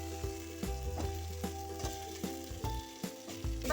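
Potatoes go into a pan of cooked-down spice paste with turmeric for cauliflower potato curry, a soft steady sizzle punctuated by regular scraping and stirring taps.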